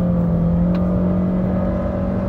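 A car engine holds a steady, loud, high rev at 5,800 rpm during an acceleration test, with a sustained droning whine and no pauses.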